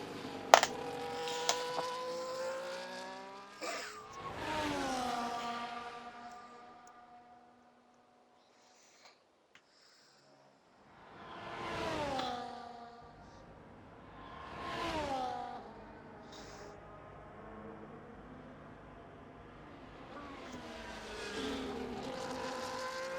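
Race cars lapping the Hungary circuit in a racing video game, engines rising and falling through gear changes as several cars pass by in turn, with a brief near-silent gap midway before more whooshing passes.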